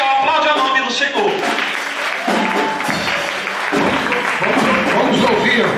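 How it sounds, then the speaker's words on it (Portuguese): A church congregation at a night vigil breaks into loud, sustained applause that fills the space, with voices mixed into the clapping throughout. "Aplaude o nome do Senhor."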